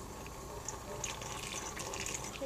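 Tap water runs into a kitchen sink while shrimp are deveined under it, a soft steady splashing stream with faint clinks of handling.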